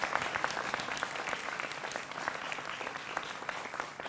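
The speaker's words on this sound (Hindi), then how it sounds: "जोरदार तालियां अनवर पाशा के लिए भी।" A studio audience on a Hindi television debate show claps steadily for Professor Anwar Pasha, a dense, even patter of many hands sustained for several seconds at moderate level.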